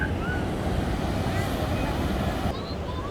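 Surf and a strong steady wind at Parangtritis beach roar loudly and continuously, with heavy wind buffeting on the microphone.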